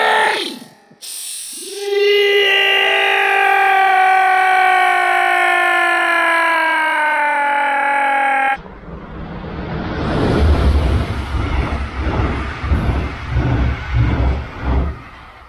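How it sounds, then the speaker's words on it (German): A train passes beneath a railway bridge near Isernhagen: a long, loud horn blast sounds first, then a heavy rumbling clatter of wheels rolls through with a rhythmic beat. "aber auf jeden Fall fährt hier ständig ein Zug durch"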